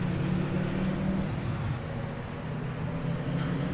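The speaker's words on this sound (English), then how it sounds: "When I first downloaded this truck, it was super, super loud." A truck engine in a farming video game drones at a steady idle, a continuous low rumble at moderate level with no talking over it.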